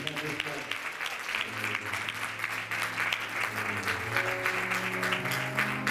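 A church congregation claps and applauds during a pastor's birthday celebration service, sustained and fairly even throughout, with sung or spoken voices and tonal music running underneath the clapping.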